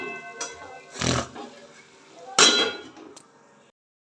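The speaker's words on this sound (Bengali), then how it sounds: "তো চলুন আবার ঢেকে দিই।" A metal lid is set back over a cooking pot of katla fish curry with potatoes, giving two or three close clanks and scrapes, then a brief quiet.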